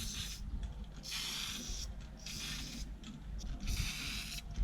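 Cheap aerosol paint sprayed onto a skate grind box outdoors, in repeated hissing bursts of about a second each, separated by short pauses, close to the microphone.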